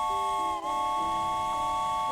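A steam-style train whistle from the Tracks train set video game sounds as a steady multi-tone chord, clear and continuous, with a brief dip partway through and no talk.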